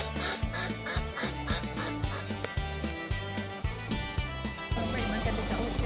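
A crowd of black swans at a roadside stop between Queenstown and Dunedin in New Zealand, giving steady, repeated honking calls that overlap in a busy chorus, with faint background voices.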